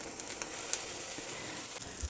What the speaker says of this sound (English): Hopefully there will be a nice little small sizzle, but nothing too extreme.